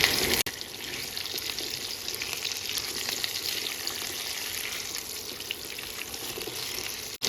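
Cut gathi kochu (taro stems) frying in hot oil with nigella seeds, a steady close hiss of sizzling that runs unbroken for several seconds with no talking.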